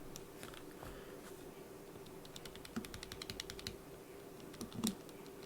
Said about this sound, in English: Now let's listen to the Everglide Jade Green V2s.